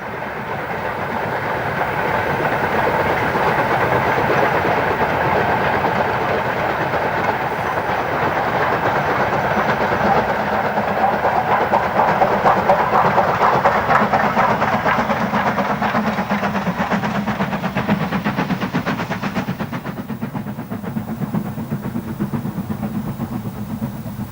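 A preserved Stanier Black 5 steam locomotive runs along the rails, its steady clickety-clack and broad rumble holding loud and close for the whole stretch, with the train sound easing slightly toward the end.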